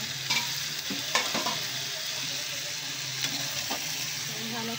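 Chicken pieces drop one by one into a pan of cooked-down masala for chicken kosha, a soft, steady sizzle with a few sharp clatters of spoon and pieces landing, fairly faint and close.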